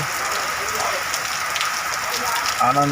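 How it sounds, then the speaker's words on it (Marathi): Steady heavy monsoon rain in Palus, Sangli, Maharashtra hisses across the whole clip, a dense broadband wash with a brief faint tone near the end. "बघा अशा प्रकारे पावसानं जोर झालेला आहे"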